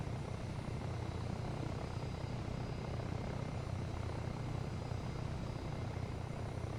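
A military helicopter lifts off with a continuous, dense rotor and turbine roar that holds steady and fills the scene, with no voices over it.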